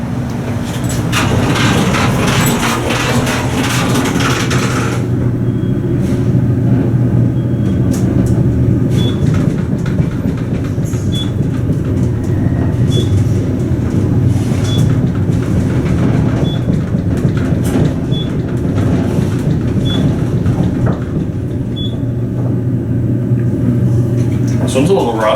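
A modernized glass elevator at the Fernbach Ramp in Buffalo, NY, rides upward roughly, with a steady low rumble and a faint rattle. A regular series of light ticks sounds over the constant drone.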